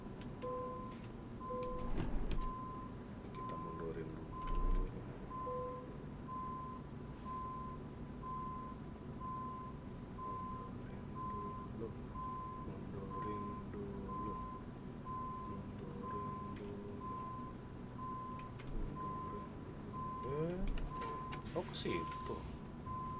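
Reversing beeps from a truck backing up in the Euro Truck Simulator 2 game, a steady run of evenly spaced tones over a low engine hum, with someone talking intermittently over them.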